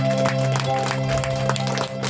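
A church congregation clapping together during a New Year service, steady dense applause that carries on without a break through the whole moment.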